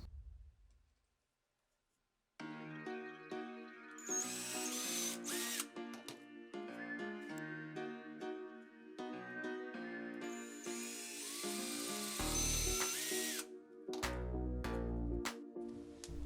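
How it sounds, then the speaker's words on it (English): A power drill whirs in several bursts with pitch changes and pauses, drilling screw holes in a cut plastic lighting profile for kitchen under-cabinet lights, plus clicks and clatter of tools in between. "Cut off the size we need and drill holes for the screws."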